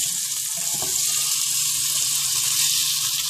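A skirt steak pinwheel sears in a hot pan, giving a steady, close hiss of sizzling fat with a few soft pops and light handling sounds.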